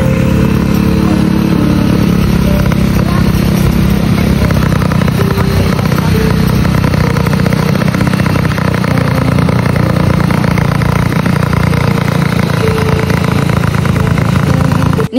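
A motorcycle engine runs steadily and loudly close by, a dense continuous drone with no clear revs or pauses and no voices over it.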